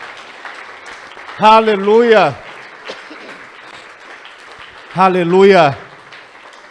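Church congregation clapping in steady, diffuse applause at moderate level throughout, while a preacher twice shouts loudly over it.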